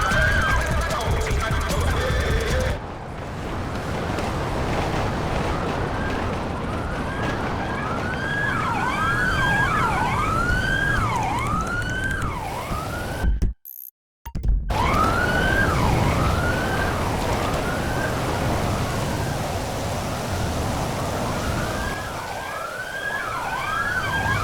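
Wailing police-style sirens of a VIP protocol convoy in the video game GTA 5, a loud, steady rising-and-falling sweep repeating over engine and road noise, briefly cutting out midway, with no talk.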